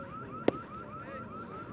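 A car alarm wails in a repeating rising-falling cycle just beyond the outfield fence of a high school district baseball game between Ferris and Richland, steady in the background with one sharp knock partway through.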